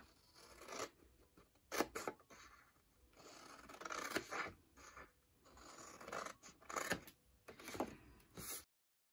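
Paper is cut for a handmade Christmas box in bursts of crisp scissor snips and scraping rustles, close but soft, separated by short quiet gaps.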